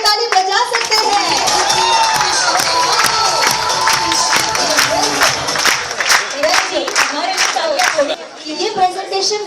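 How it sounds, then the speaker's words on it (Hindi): An audience at a training event claps for itself while standing, loud irregular hand claps mixed with voices and some cheering; a speaker talks over the clapping throughout. "आप खुद के लिए खड़े होकर ताली बजा सकते हैं।"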